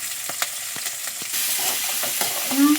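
Okra, onion and chana dal sautéing in oil for a Tamil-style vendakkai poriyal, with a steady sizzle and a few clinking stirs of a spoon against the pan, close by.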